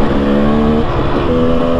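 Husqvarna TX300 dirt bike, a 2018 two-stroke, revving loudly and steadily while being ridden, its engine note wavering slightly up and down through the short stretch with no voices.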